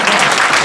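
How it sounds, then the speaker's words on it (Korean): A lecture audience claps loudly in a brief, dense burst of applause with no voices over it. "박수를 많이 보내줍니다."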